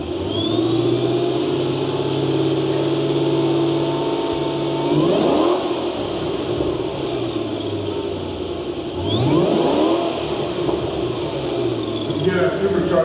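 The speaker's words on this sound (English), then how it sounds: "I'm going to just rev it up a little bit here." A modified Ford GT supercar with a supercharged 675-horsepower engine idles, then revs twice to about 4,000 rpm, each rise sweeping up with a whining supercharger and dropping back, loud and close, with someone talking over the idle.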